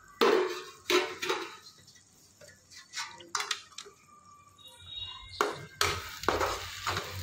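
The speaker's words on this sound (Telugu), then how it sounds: "టమాటాలు వేసుకున్న తర్వాత ఒకసారి కలుపుకోవాలి బాగా" Tomatoes are stirred into a brinjal curry in a pan, giving a series of separate scraping and clinking strokes of a utensil against the pan over a faint background.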